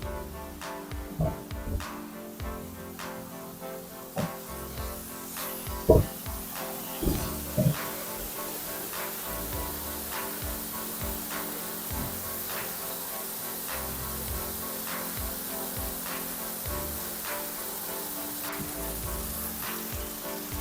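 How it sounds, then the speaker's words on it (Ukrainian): Waterfall inside a cave on Madeira, a constant spraying hiss of falling water with scattered drips and splashes and a few sharper knocks, steady and fairly near throughout. "Зараз ми пройдемо під цим водоспадом."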